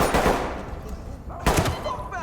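AK rifle gunfire in a shooting video game crackles in short, close bursts of rapid shots, two clusters separated by a brief pause, loud with no talk over it.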